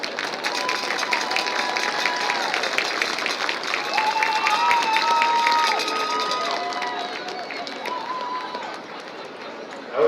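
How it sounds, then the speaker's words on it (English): Crowd noise at a Texas high school football pregame ceremony honoring senior players, with broad steady cheering and applause throughout, an announcer's voice over the top, and whistling or tonal calls from the stands. "Let's have a round of applause for all of our senior football players."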